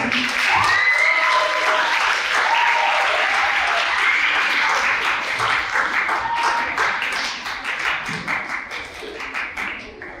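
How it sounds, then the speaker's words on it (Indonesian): An audience at an awarding and closing session applauds a participant, steady clapping with faint cheering over it that gradually tapers off. "Mari berikan tepuk tangan yang meriah untuk Kak Maria."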